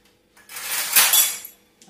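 A metal spoon is picked up from among kitchen utensils, giving a short, close burst of clinking and scraping that swells and fades within about a second, in a quiet home kitchen.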